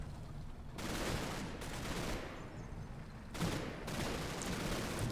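Gunfire in the Combat Mission video game, set in Normandy, with several sustained stretches of rattling shots separated by brief lulls, fairly faint and distant-sounding.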